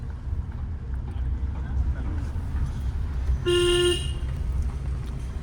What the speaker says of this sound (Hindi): एक लॉन्ग हॉर्न प्रेस करेंगे 3 से 5 सेकंड तक